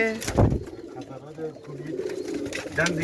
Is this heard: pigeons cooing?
yes